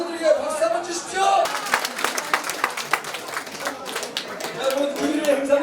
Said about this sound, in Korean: 참여해주신 우리 젊은 청년들에게 박수 한번 주십시오